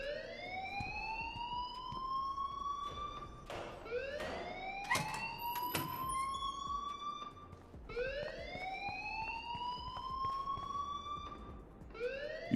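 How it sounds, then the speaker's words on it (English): An alarm blares in the video game Life is Strange: a repeating rising electronic siren sweep, loud and cycling every few seconds, with sharp clanks and knocks scattered between the wails. "please turn off that alarm since that's your job"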